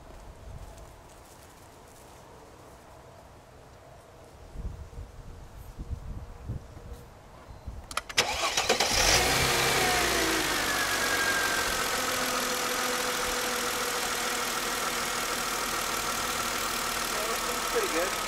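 A Mercedes CLK 320 engine cranks and catches after a quiet stretch, then settles into a steady, loud idle that runs on continuously, following work on the intake manifold and valve cover.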